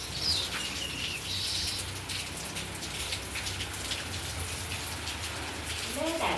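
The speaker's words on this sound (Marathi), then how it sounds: "पाऊस खूप आहे." Heavy monsoon rain pours steadily outside a home, a dense constant hiss of drops hitting surfaces, with faint bird chirps in the background.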